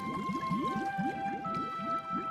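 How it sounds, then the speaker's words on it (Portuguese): Deep whale calls sound alone and up close in an undersea fairy-tale scene, made up of repeated rising squeaky moans over steady droning tones with no talking. "Baleias grandes"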